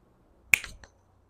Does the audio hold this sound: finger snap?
yes